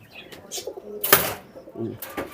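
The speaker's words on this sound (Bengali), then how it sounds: "এই দুইটা কালদম কবুতর" Two Kaldom pigeons at a farm give soft, low coos in short bursts, with a sharp broadband flutter or rustle near the middle and a faint voice in the background.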